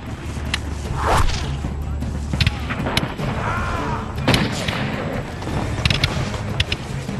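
Sharp cracks of gunfire go off repeatedly over a dense, roaring battle din in woods, shots scattered irregularly with heavy rumbling underneath.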